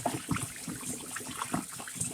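Warm water is poured into a container holding shrimp, giving a close, splashy, bubbling gurgle that runs unevenly throughout, with no voices.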